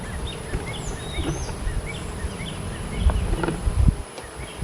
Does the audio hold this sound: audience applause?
no